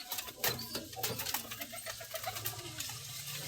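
Young pigeons coo softly and repeatedly nearby, low throaty calls overlapping against a quiet background.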